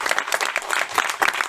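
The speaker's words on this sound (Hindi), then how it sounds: "उनको एक जोरदार ताली बजनी चाहिए" Crowd clapping at a Ganesh mandap celebration in Hyderabad, a steady burst of many hands applauding close by that fills the whole moment without talk.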